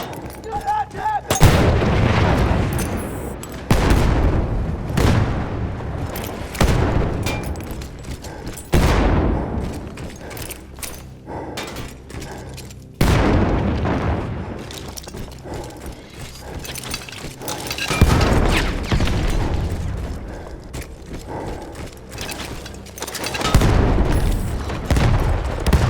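Battlefield 1 combat on PC at ultra settings: repeated heavy explosions and bursts of gunfire erupt loud and close, separated by quieter stretches of rumbling battle ambience.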